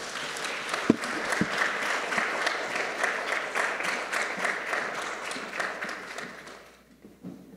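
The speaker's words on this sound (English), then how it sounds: "please welcome her with a round of applause" A conference audience gives sustained applause welcoming a speaker at a democracy-themed event, dense clapping filling the room for several seconds before tapering off into quiet.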